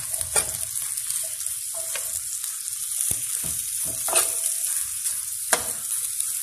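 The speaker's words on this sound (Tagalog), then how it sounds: "Halo-haloin natin siya guys." Macaroni pasta with chicken breast stirred in a frying pan: a continuous close sizzle broken by several distinct scraping clacks of the utensil against the pan.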